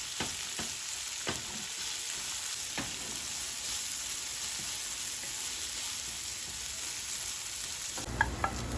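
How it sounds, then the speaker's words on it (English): Onions frying in a pan for chicken biryani, cooking down until brown, give a steady close sizzle throughout, with a few sharp spatula clicks and stirring scrapes. "We're going to go ahead and let these onions cook all the way down until they're brown."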